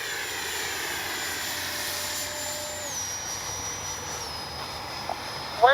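FMS Integral 80mm RC jet aircraft flying past with a steady, loud whining ducted-fan roar, its pitch shifting downward twice as it passes; a short sharp sound comes near the end.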